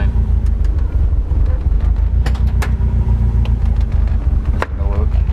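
A turbo Toyota Trueno AE86 engine idles unevenly just after starting, a close, loud, low rumble with slight irregular pulsing and a few small clicks over it.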